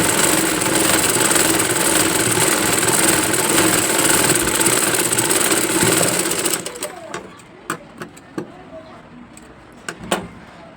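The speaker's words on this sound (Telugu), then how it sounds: "ఇది ఫ్రంట్ పార్ట్లో పెడతామనేసి ఇలా ఫ్రంట్ దగ్గర అయితే స్టిచ్చింగ్ చేస్తున్నాను" A sewing machine stitches tent cloth at the front part, a loud steady whirring drone for about six seconds, then it stops, leaving sparse clicks and handling taps.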